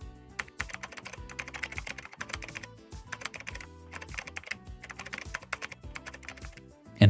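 Quick, steady keystrokes tapping on a computer keyboard at close range while writing a screenplay scene, in irregular bursts of clicks with short pauses between them.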